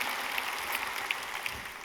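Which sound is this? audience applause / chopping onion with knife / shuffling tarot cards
audience applause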